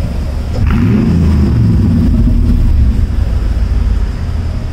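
A black supercharged Mercedes G55 AMG G-Wagon in Mumbai fires up close by, settling into a deep, heavy rumble with a low throaty rev that swells and holds steady.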